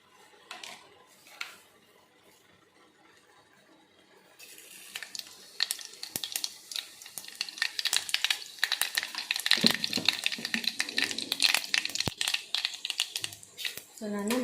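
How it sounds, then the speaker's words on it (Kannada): Cumin and mustard seeds drop into hot oil in a home kitchen, starting a sustained crackling sizzle that grows busier and louder over several seconds after a quiet opening, with scattered pops and a stirring utensil. "ಸೊ ಈಗ ನಾನು ಜೀರಿಗೆ ಸಾಸಿವೆ ಹಾಕ್ತೇನೆ."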